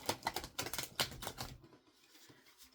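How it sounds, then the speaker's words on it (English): Quick, crisp flicks and riffles of tarot cards being shuffled in rapid bursts, close up, then fading into near silence. "I'm having a hard time shuffling these cards."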